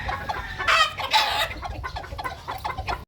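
A butcher-breed gamefowl rooster with white legs, a white streamer and a straight comb clucks close by in a few short bursts, some louder and strained, over faint farmyard background.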